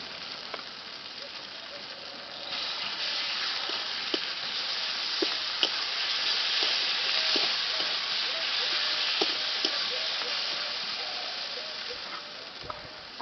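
Ginger and garlic paste fries with onions and tomatoes in a pan for a duck curry, making a steady, moderate sizzling hiss with scattered light crackles and no voices.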